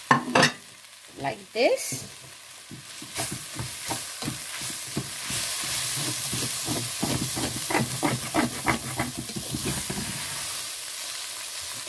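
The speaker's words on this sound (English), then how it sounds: "I'm going to add our spring onion" Spring onion hits hot oil in a pan while chicken noodles are being made, giving a bright hissing sizzle with repeated stirring clatters and scrapes. A few quiet spoken words come early.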